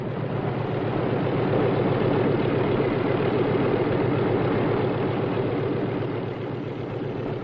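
Steady, loud engine drone with a deep throbbing rumble from World War II propeller aircraft parked on an aircraft carrier deck, continuous throughout with no voices.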